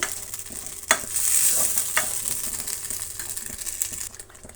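Vegetables are stirred in a hot pan for a vegetable curry, with a continuous close sizzle of frying and scraping stir strokes, one sharper clack near the start, and no talking.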